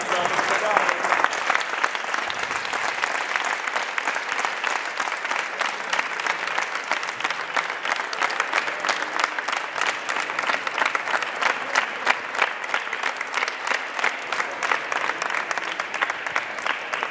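Sustained audience applause for Luchetto, Stefano's son, dense and steady clapping from a crowd filling the whole stretch, with no talk on top.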